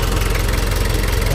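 A boat engine restarted and idling, its cylinder head nearly overheating; a steady, close, loud low rumble with a faint knocking pulse and no talk.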